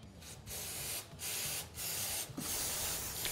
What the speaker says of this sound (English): So we'll take our carb cleaner, and then we've got an oil pan. We'll just spray all the junk into the oil pan.